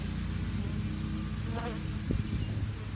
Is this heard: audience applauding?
no